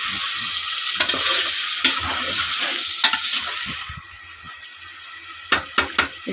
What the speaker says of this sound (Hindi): आलू और अंडे ऐड कर देंगे, क्योंकि दोनों चीज़ें हमने बॉईल करके रख ली। इनकी अच्छी तरह से भुनाई करेंगे थोड़ी देर।